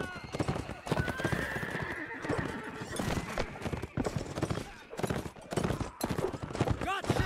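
Enemy cavalry in a video game: horses neigh and whinny over a continuous galloping clip-clop of hooves, with a few distant gunshots mixed in and players talking over the action.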